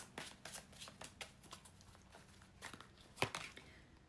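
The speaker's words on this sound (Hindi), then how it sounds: "आकाशिक रिकॉर्ड में से भी आपके लिए 2 कार्ड्स निकालते हैं" Tarot cards are shuffled and drawn from a deck: a soft, quiet run of flicks and riffles with one sharper snap near the end.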